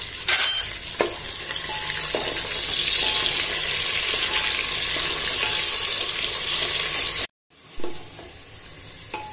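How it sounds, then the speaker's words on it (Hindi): Onions for moong dal pulao fry to light golden in hot oil with a loud, bright, continuous sizzle and scraping stirs, briefly cutting out before the frying resumes. "अब डालेंगे हम इसमें प्याज और इस प्याज को हम लाइट गोल्डन फ्राई करेंगे।"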